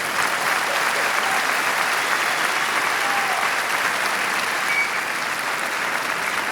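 Sustained applause from a large audience, steady and dense clapping throughout with no breaks.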